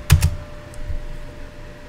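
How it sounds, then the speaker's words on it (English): Two quick keystrokes on a computer keyboard, close and crisp, clicking right at the start before the rest falls quiet. "so I just type Ninja Forms"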